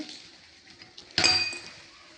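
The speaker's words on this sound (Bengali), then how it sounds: "ডিম ভাজার জন্য এরকম একটা মিনি ফ্রাই প্যান নিয়েছি।" A small metal frying pan for eggs is picked up and set down, giving one sharp clinking knock with a short ringing tail after faint handling rustles.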